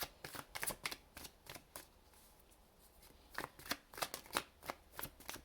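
Tarot cards being shuffled close by in quick crisp bursts of riffling clatter, with a brief quieter pause in the middle before the rapid flicking resumes.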